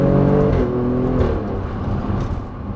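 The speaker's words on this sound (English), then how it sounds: "Those gear changes are lightning quick." An Alfa Romeo Stelvio Quadrifoglio engine revs hard as it accelerates, pitch climbing then dropping abruptly in lightning-quick gear changes, loud and close inside the vehicle.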